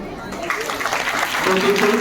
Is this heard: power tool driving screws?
no